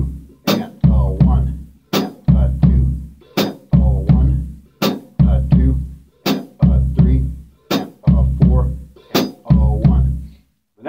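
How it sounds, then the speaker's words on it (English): Samba pattern on a drum set, deep bass drum pulses with crisp hi-hat strokes on the offbeats, a steady loud and close rhythm repeating evenly. "Then you add the hi-hat on the offbeats, on the and. So it sounds like this."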